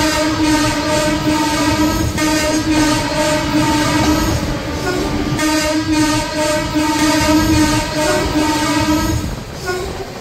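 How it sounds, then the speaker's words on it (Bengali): Jammu Tawi Express passenger train running loudly on the rails with a sustained horn blast layered over the rumble and clatter, close and continuous throughout, entering Dhanbad station. "ট্রেন এই মুহূর্তে ধানবাদে ঢুকলো"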